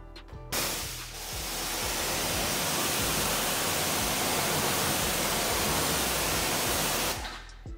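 A hose sprays water onto ceramic-coated car wheels, a loud steady hissing rush that starts abruptly, holds for about six seconds close to the listener, then cuts off.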